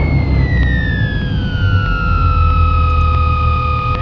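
A small aircraft's piston engine idles during an idle check, a loud, close, steady low rumble with a slowly falling whine above it and no talking.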